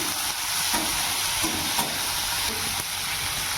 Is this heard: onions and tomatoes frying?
yes